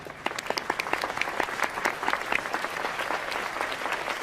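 A studio audience at a televised show applauds for the host, dense sustained clapping with a few louder claps, filling the whole stretch with no speech over it.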